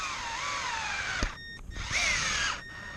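Power screwdriver driving screws back into an Arrma Fury RC car, two short close whirring bursts separated by a brief pause, with faint handling noise between.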